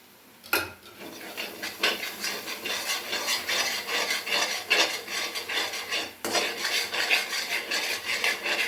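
A spoon scrapes and stirs fish curry masala frying with butter in a pan for Goan-style ribbon fish curry, giving steady rasping strokes and clinks, loud and close with no talk.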